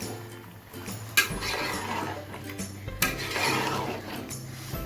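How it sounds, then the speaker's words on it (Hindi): A spoon scrapes and rubs through soaked rice in a pot for chicken pulao, making a steady grainy stirring sound with two sharper knocks against the metal. "इसको ऐसे चलाना है, नहीं तो ये चावल ना घुट जाएंगे"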